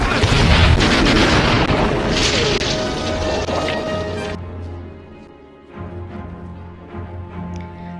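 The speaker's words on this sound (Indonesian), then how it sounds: "bahan persediaan bom meledak dan membuat Val dan kawan-kawan terpental ke tanah." A bomb supply stockpile exploding in a film scene: a loud, heavy blast with a booming rumble and debris burst that slowly fades into lower rumbling and scattered crackles.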